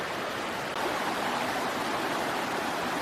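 Rushing water from a swollen river in Sitka, Alaska, running high in September, heard as a steady broadband wash that is close and continuous with no talking.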